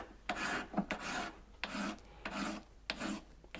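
Close, loud rasping strokes of 240-grit abrasive rubbed hard against a metal signet ring, five or six even back-and-forth bursts with brief gaps between them, alone with no talk.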